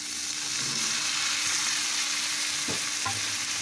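Spice tempering frying in oil in a pan before boiled cluster beans go in, a loud continuous sizzle near at hand with a few faint clinks of a ladle, and no one speaking.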